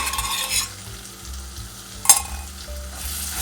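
Couscous pasta with tomato paste is sautéed in a pan, a close sizzle broken by stirring scrapes and one sharp metallic clink of a utensil against the pan partway through.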